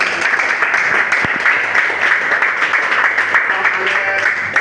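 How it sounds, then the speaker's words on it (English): A church congregation applauding during a service, a dense, sustained wash of clapping that carries evenly and loudly throughout. "An applause to God."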